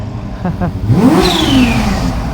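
A Kawasaki Ninja H2 motorcycle engine revs hard and close, its pitch sweeping sharply up and then easing back down in one big throttle blip after a couple of brief lighter stabs.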